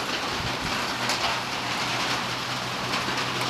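Rain falls outdoors at a Wisconsin bear baiting site as a steady, dense hiss of drops on surfaces, continuous and fairly loud with no other sounds standing out.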